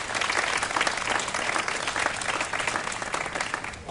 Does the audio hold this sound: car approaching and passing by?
no